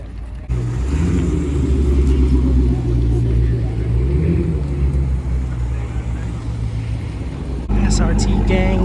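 An SRT performance car rolls past at a cars-and-coffee meet, its deep engine rumble steady and close, with people talking over it.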